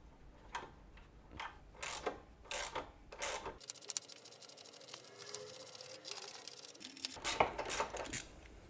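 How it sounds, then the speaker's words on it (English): Sharp metallic clicks and ratcheting snaps repeat as a puller presses out a control arm bushing on a BMW E46 325i Touring, then a quieter grinding stretch before a final burst of clicks. "I personally like to use a puller."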